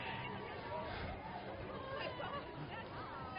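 Crowd chatter at the Winnipeg Pride 2019 outdoor celebration comes through as a faint, distant babble of many overlapping voices.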